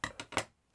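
Three quick scissor snips cutting strips of paper for a dahlia craft flower, close and crisp, then quiet.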